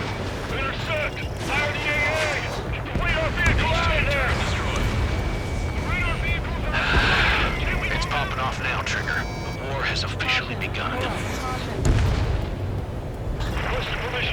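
Anti-air fire and explosions in the video game Ace Combat 7, a dense, continuous barrage of booms and rumbling blasts with aircraft noise, while voices talk over the combat throughout.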